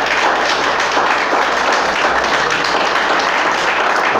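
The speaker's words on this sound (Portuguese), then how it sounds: "Quem crê pode aplaudir e glorificá-lo." A church congregation applauding in praise: a dense, continuous roar of many hands clapping together, loud and even throughout.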